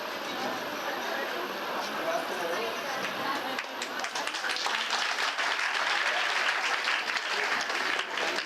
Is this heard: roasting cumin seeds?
no